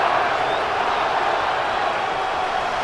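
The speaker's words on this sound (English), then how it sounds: "The crowd cranking it up another notch before third and long" Steady roar of a packed stadium crowd in Madden 25 during a Rams vs Seahawks game, a dense continuous wash of cheering held at a constant loud level.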